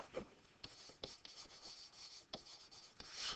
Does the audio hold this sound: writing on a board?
yes